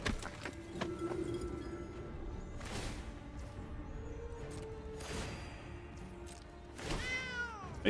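Cat tokens in MTG Arena meow as short, clear game sound effects, with a few distinct meows spread across the clip over soft background game audio, the last one rising and bending in pitch.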